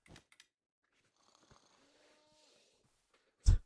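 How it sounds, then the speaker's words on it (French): A cow moos in Minecraft at night near an inn, one drawn-out low call in the middle, faint and somewhat distant, followed by a sharp loud thump at the end. "Avec la vache qui gueule."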